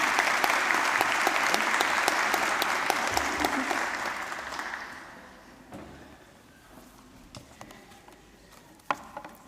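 Graduation ceremony audience in Dublin gives a round of applause that starts strong and full, fades out after about five seconds, then leaves scattered isolated claps and faint room noise.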